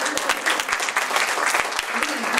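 Audience applause at a Drupal conference keynote, a steady crowd of hands clapping with the occasional louder clap standing out, sustained at even volume throughout.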